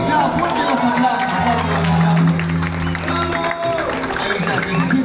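A live audience breaks into applause and crowd noise at a Spanish-language show, sustained clapping and cheering heard alongside a voice over a busy, continuous background.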